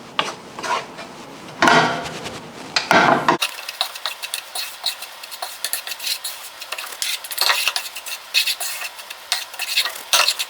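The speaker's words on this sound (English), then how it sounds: "use the residual heat from the pan to also toast the powdered milk a bit. Not too much, and make sure to keep stirring." Powdered milk being toasted in a hot pan while a utensil stirs and scrapes in quick, repeated strokes, with soft rubbing and faint sizzle between the louder scrapes.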